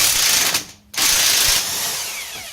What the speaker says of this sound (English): you're going to get your impact gun on the nut